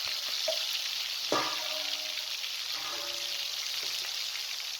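Masala-coated kaleji (liver) sizzles and fries in hot oil on a tawa, a steady bright crackle with a few clinks of a utensil against the pan.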